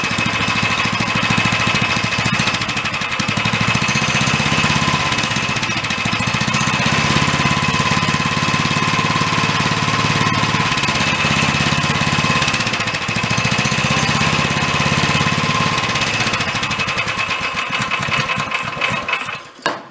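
A dune buggy engine with an intake leak runs close by. Its fast, rattling chatter holds steady with slight surges, then drops out abruptly at the very end.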